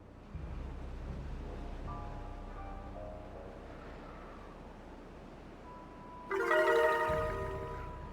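Game water flows in Timberborn with a soft, steady wash like distant surf. Faint tonal blips are layered over it, and a brighter burst of chimes comes in near the end.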